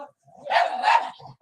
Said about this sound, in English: Take care of the dog.